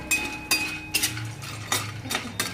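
Dried lentil dumplings roast in oil in a pan, stirred with a metal spoon that clinks and scrapes against the pan in sharp bursts every half second or so, over a faint sizzle.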